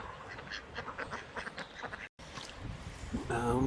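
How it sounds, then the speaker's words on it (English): Ducks quacking in a small group, a run of raspy calls over outdoor background noise, with a brief gap midway and louder quacks near the end. "And a flotilla of ducks."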